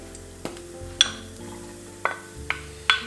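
Onions and garlic cooking in a hot pan, with a steady low sizzle broken by several sharp clinks and scrapes of a utensil stirring against the pan.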